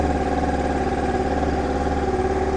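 A Honda Deauville motorcycle engine idles with a slightly high tick over, a loud, steady, even thrumming pulse heard close up, with no talk over it.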